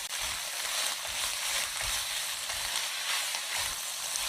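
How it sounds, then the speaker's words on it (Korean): Eggplant stir-fried with cooked meat in a hot pan, a loud, dense, continuous sizzle with soft rhythmic scraping from stirring, close up and without any voices. "마지막으로 가지를 넣고 볶아줍니다"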